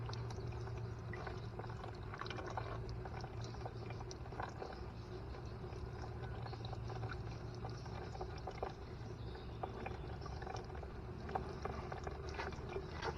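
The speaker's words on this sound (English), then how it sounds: "This is how I water the garden for now" Garden hose spraying water onto a weedy garden bed with a weed barrier, a steady, even hiss and splash that runs on without a break, fairly faint.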